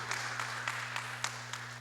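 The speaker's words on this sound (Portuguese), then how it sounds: "Vamos aplaudir a Jesus." A congregation applauds at a Friday healing and deliverance church service: sparse, fairly faint clapping in a few separate bursts over a steady electrical hum, without speech.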